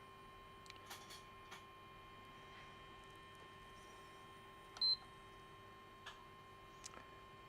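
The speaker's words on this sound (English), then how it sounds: "We got a beep." A PS5 Slim console under repair for a southbridge fault gives one short, clear electronic beep midway, over a steady mains hum with a few faint ticks.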